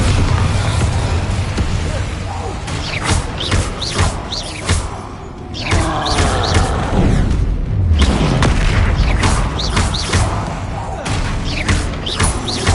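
Incendio and Bombarda spell blasts go off in Hogwarts Legacy during a fight with a troll. Repeated heavy booms and thuds come in quick, irregular bursts over constant game action noise.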